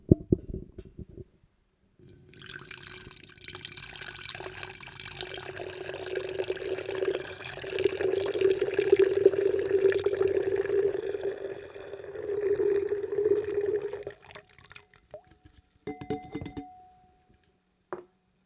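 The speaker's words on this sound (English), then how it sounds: "I'm going to pour this into the fancy sip glass" Ayrloom CranApple drink pours steadily into a glass, a close, continuous liquid stream that swells and lasts around twelve seconds before a few clinks and taps at the end.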